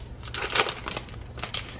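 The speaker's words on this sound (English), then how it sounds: "So let's rip open this first pack." A Garbage Pail Kids 2021 Food Fight Collectors Edition card pack wrapper ripped open by hand, a short close burst of crinkling and tearing plastic foil lasting under two seconds.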